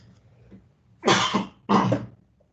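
Two sharp coughs in quick succession, close and fairly loud, followed by quiet.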